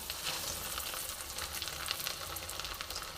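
Steady, dense sizzling of cheese vegetable rice chops frying in hot oil, with crackling pops scattered throughout and no voices.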